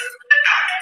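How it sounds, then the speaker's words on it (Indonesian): An incoming-call phone ringtone goes off during a religious discussion, starting with a faint tone and then swelling into a steady, bright electronic ring that holds loud and close for under a second. "Tapi abangku ada telepon masuk bang."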